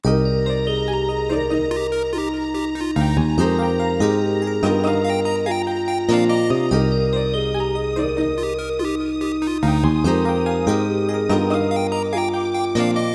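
A synthesized piano plays a full melody over sustained chords, steady and clear with no voices, notes changing every second or so.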